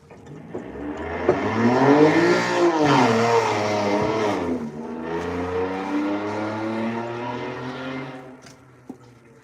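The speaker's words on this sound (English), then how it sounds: "That was a very loud vehicle." A loud vehicle roars past with a rising, then falling engine note, swelling to a peak and fading away, with no one talking.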